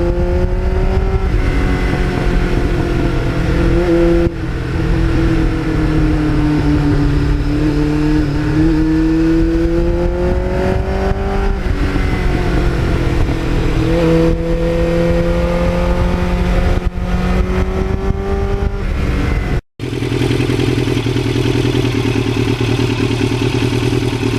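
A 1980s Kawasaki Ninja 750 mid-size sport bike engine revs hard at full RPM, a loud, sustained high-pitched scream that rises and falls steadily for the whole stretch, heard close up from the rider's seat with no talk.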